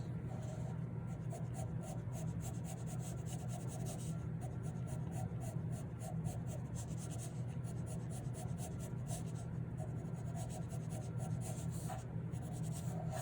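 Pencil strokes scratch steadily across paper while sketching a figure drawing of the legs, a continuous close rubbing and scribbling with short repeated marks throughout, no talking.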